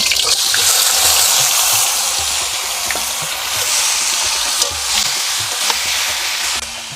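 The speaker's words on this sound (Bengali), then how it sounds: "আমগুলো আমি নেড়ে নিয়েছি" Mango pieces for a sweet pickle stirred in hot mustard oil with whole dried chilies and bay leaves, a loud close sizzle with occasional spoon scrapes, no talking.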